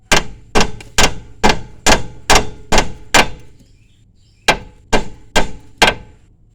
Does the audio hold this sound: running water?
no